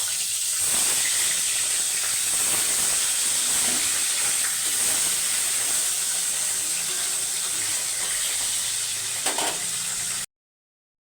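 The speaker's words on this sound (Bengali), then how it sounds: "তেল গরম হয়ে গেছে, মাছ দিয়ে দেবো" Salted, turmeric-coated fish fries in hot mustard oil in a kadai, giving a steady, loud, close sizzling hiss that runs unbroken for about ten seconds and then cuts off abruptly.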